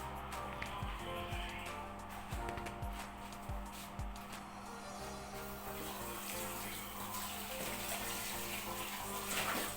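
Tap water runs steadily into a kitchen sink while dishes are washed at home, a continuous close rush with faint low knocks of crockery underneath.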